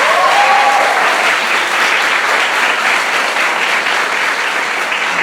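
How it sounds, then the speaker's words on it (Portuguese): A church congregation at a Desperta Osasco service applauds at length, a broad, even wash of many hands clapping, loud and unbroken for over five seconds, with a brief voice audible at the start. "Aplaude esse milagre em nome de Jesus."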